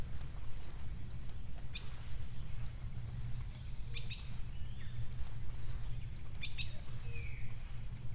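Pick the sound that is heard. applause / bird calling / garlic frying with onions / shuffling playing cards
bird calling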